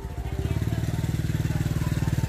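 A motorcycle putters close by with a rapid, even engine throb that holds steady through the short moment.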